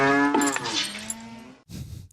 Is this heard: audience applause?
no